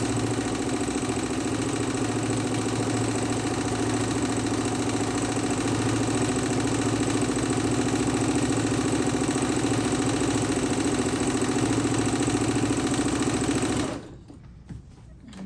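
A Singer sewing machine runs continuously with a steady mechanical whir and rapid needle clatter, loud and close, then stops abruptly near the end, leaving faint room noise.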